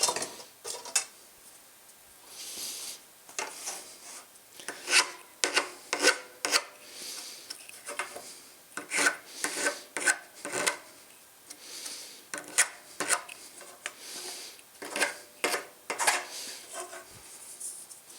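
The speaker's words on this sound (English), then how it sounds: "Just a little bit of deburring" Repeated short rasping strokes of a file deburring the rough, hacksaw-cut edge of a window screen frame, close and fairly quiet, in irregular bursts with brief pauses between them.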